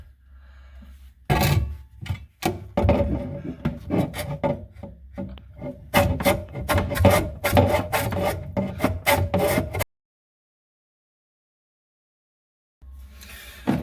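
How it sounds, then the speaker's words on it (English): A hacksaw cuts through a drain trap arm pipe in a tight space, with close, quick rasping strokes in irregular bursts, then a long pause before the sawing briefly resumes. "we're going to grab our hacksaw and we are going to cut the trap arm."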